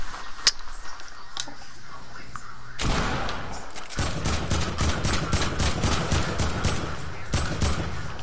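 Rapid video-game gunfire from a player's weapon in a trios match, a dense run of repeated shots after a quieter start, loud and close with voices talking over it.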